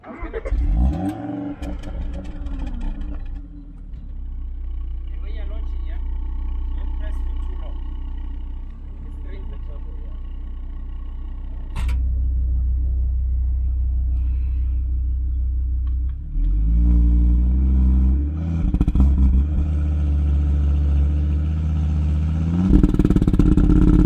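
A 2012 Audi RS3 hot hatch's engine is heard while driving, a steady low rumble that swells in stages as it accelerates and revs up through the gears, close and loud throughout.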